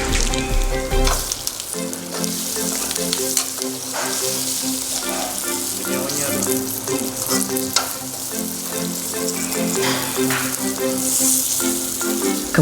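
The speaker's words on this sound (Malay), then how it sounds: "Masukkan daun kari dan tumis hingga naik bau." Curry leaves sizzle and fry loudly in hot oil in a pan, a dense continuous crackle with occasional stirring scrapes and no talking.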